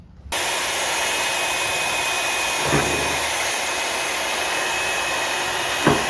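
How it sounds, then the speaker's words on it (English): Wire wheel on a power tool stripping old paint from a small lip on a car body, a continuous loud whirring grind starting abruptly, close and steady with brief knocks of contact. "get all the old paint with the wire wheel from this little lip right here"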